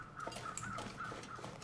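Several faint crows in The Long Dark cawing over a collapsed tunnel, repeated hoarse calls at a steady pace, distant and low in level.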